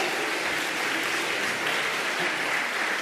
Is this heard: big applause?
yes